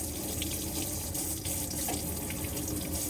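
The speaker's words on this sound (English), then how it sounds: "You've also got making sure that your pump's on for your tap and you get pressurised water." Water runs steadily from the tap of a Hobby T-550FS caravan under pump pressure, a continuous close, even gush and splash into the sink with no break and no talk.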